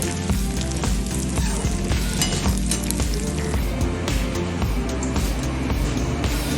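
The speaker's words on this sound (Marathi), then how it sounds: "आता ते सगळे परतून घेऊया चांगलं" Dry fruits for laddoo are roasted in a pan with a loud, dense sizzle and frequent stirring clinks and scrapes, running continuously and close by throughout.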